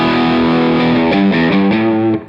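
Distorted electric guitar played through a Tube Dreamer overdrive boosted by a JAM Boomster MK2, a loud sustained chord followed by a few more struck chords changing pitch, ringing alone before cutting off.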